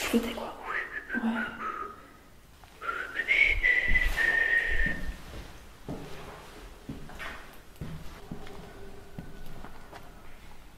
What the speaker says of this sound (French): On aurait dit quelqu'un qui sifflotait quoi.